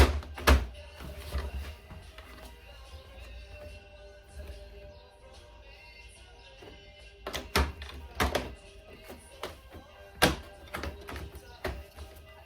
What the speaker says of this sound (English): give them clips a little tap